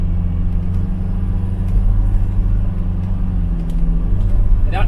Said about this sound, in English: There is actually a downshift there, you just heard it.